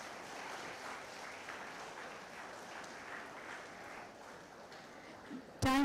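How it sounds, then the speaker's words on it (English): A conference audience claps for a speaker, a soft, dense, distant patter that stays even throughout before a brief louder knock at the very end. "Let's give him another round of applause."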